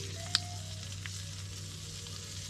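Garlic sizzles in a little oil in a pan at a campsite, a steady, soft frying hiss with one brief clink of a utensil near the start, heard close and alone with no talking.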